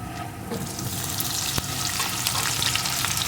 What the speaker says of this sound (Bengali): পটলটাও সুন্দরভাবে ভেজে নেব